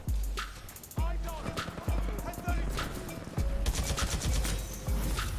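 Gunfire in the Titanfall 2 video game, with sharp repeated shots and bursts recurring about once a second throughout, loud and close over continuous in-game noise.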